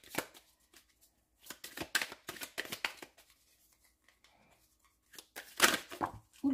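An oracle deck is cut and shuffled close up, with bursts of riffling, flicking card noise, a quiet pause in the middle, and then a final flurry.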